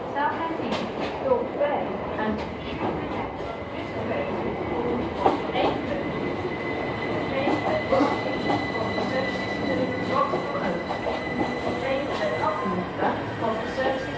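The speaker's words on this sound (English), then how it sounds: "the video will be ending out with an outtake of the C2C train coming in" A c2c train pulls into a London-area station, wheels squealing and rails clicking in a steady rumble, with a muffled announcement-like voice over it.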